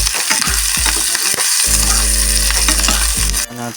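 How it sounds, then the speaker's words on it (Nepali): Chicken chili with onion and garlic frying in a pan gives a loud, steady sizzle that hisses and crackles throughout, with brief stirring scrapes and a short drop near the end. "फ्राई एकदम मजाले हुँदैछ।"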